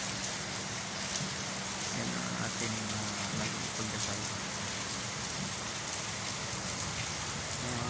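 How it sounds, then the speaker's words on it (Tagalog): Heavy rain pours in Manila in a dense, even roar that never lets up, with a person speaking briefly beneath the downpour. "paglakas ng ulan dito sa Manila"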